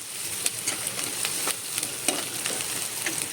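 Onions and whole spices fry in a pan for misal pav, giving a continuous sizzle scattered with sharp pops and crackles at close range.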